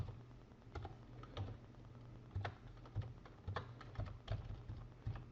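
Numbers are typed on a computer keyboard in quick, irregular clusters of key clicks, faint and close, with no voices.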